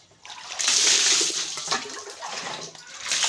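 Water splashes and pours loudly as a body scrub is rinsed off skin during a bath, with a gushing, splattering stream that swells and wavers before trailing off, and no speech.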